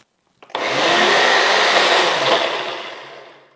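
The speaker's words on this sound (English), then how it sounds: "she does an incredible job of getting everything blended super smooth" A loud blender whirs continuously through frozen smoothie ingredients, starting abruptly and running steadily for about three seconds before easing slightly, close and without any talking.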